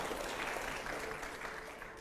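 A short burst of crowd applause, steady and fairly faint, sounding from a room of many people clapping.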